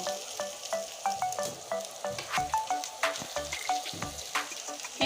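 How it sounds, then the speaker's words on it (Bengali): Potatoes and onions fry in a pan for a Bengali fish curry, sizzling steadily while a utensil stirs and scrapes them in a rhythmic series of close taps, with no talking. "আলু পেঁয়াজটা আমি লাল লাল করে কষিয়ে নেব"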